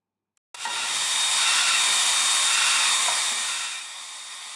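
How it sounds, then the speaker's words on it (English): A hair dryer is switched on and blows with a loud, steady whooshing hiss, used to dry off a pet bird after a shower, easing slightly toward the end. "You can always follow it up with a nice blow dry."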